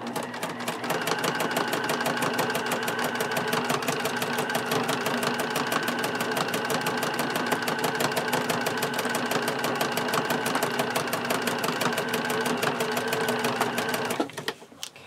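A sewing machine straight-stitches a pencil bag in one rapid, even run of needle strokes that lasts about fourteen seconds and then stops abruptly.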